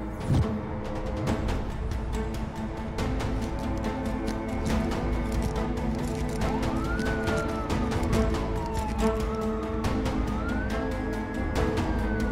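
A police siren wails with rising and falling sweeps over a busy, clattering background, becoming clearer in the second half.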